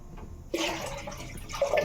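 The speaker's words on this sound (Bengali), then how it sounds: "এই যে জল দিলাম।" Water pours into a cooking pot for rice and potato poppy-seed curry, a steady splashing rush starting abruptly and running to the end.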